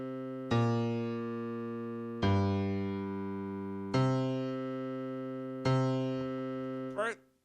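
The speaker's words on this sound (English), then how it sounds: "maybe I want a bass line that sounds like this" A basic electronic bass line programmed in FL Studio plays four long, evenly spaced sustained notes, each with a sharp attack that slowly fades, ending with a brief warbling sweep.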